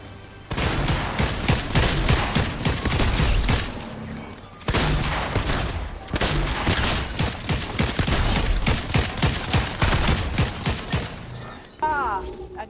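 Dense, sustained gunfire from enemies in a Fortnite Zero Build duos match, rapid bursts and booms filling most of the time with brief lulls, loud and continuous.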